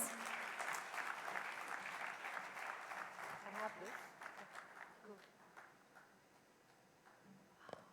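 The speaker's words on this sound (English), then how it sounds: "A big round of applause" Audience applause at a speaking event welcoming a woman to the stage, a steady wash of clapping from a crowd that gradually thins and fades toward the end.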